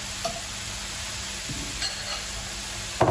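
Minced pork sizzling steadily in a hot frying pan for a keto cauliflower fried rice, a constant close hiss with a few soft stirring bumps and a clank at the end.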